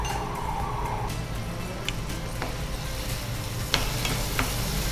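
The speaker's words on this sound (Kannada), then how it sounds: "ಓಕೆ, ಈರುಳ್ಳಿ ಹಾಕೊಳ್ಳೋಣ." Onion sizzles and fries in a hot pan for a bread sandwich, a steady crackling hiss throughout with a few light stirring scrapes and clinks over it.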